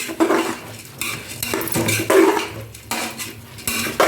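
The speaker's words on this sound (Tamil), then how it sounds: "நல்லா அரிசி போட்டுட்டு நல்லா ஒரு கொஞ்சம் கலந்து விட்டுருவோம்." Rice is stirred in a metal pot for vegetable biryani, producing loud, repeated scraping and clanking of a spoon against the pan in uneven bursts, with no voices.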